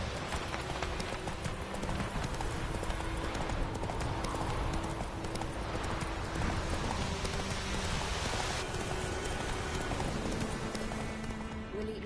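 A horse gallops in The Witcher 3, its hooves pounding a steady, rapid clip-clop throughout, close and loud over a constant rain-like hiss.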